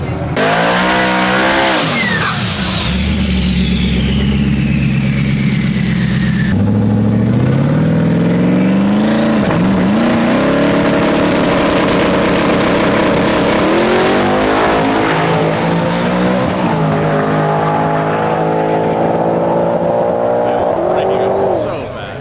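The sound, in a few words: Mustang drag car making a full-throttle pass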